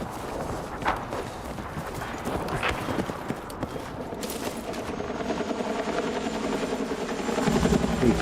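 A video-game helicopter's rotor chops steadily in the background with sporadic thuds and footstep-like clatter. The whole mix stays at a moderate level and swells near the end.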